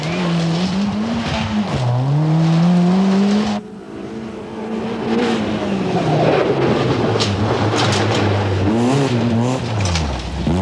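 Rally car from the 1992 Petronas Malaysian Rally Championship round in Negeri Sembilan, its engine loud and close, revving and surging as the driver loses control and runs wide through a corner, with skidding tyre noise and a brief drop midway.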